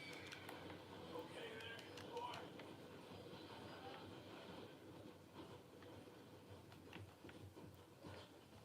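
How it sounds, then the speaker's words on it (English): A train rumbling past in the Red Dead Redemption II game world, a steady dense wash of rolling rail noise with faint clicks and metallic squeals, continuous across the whole span with light chatter mixed in. "Train."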